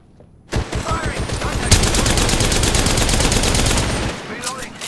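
Rapid gunfire in the video game Apex Legends, a burst of automatic shots starting abruptly and running continuously for several seconds, loud and close, then easing off near the end.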